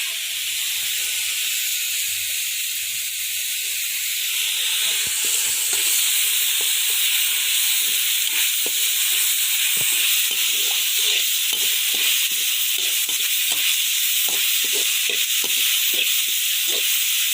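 Cumin seeds, cinnamon and cloves sizzle in hot oil in a pan during home cooking, giving a steady loud hiss with scattered small pops and crackles throughout, and no voices are heard.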